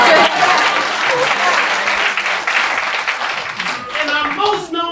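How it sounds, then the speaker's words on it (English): An audience claps and cheers through the whole stretch at a live R&B show, loud and sustained, with voices and whoops mixed into the crowd noise. "Go ahead and clap to that."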